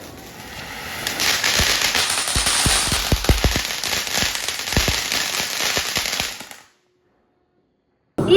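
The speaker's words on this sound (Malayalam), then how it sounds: "ഇത് നമ്മുടെ സബ്വേ സർഫേഴ്സ് ചെക്കനെയും കൊണ്ട് പടകം പൊട്ടിക്കാൻ പോവാണ്" Firecrackers set off during Vishu family celebrations burst in a rapid, crackling string of sharp pops, loud and close, lasting several seconds before stopping abruptly into silence.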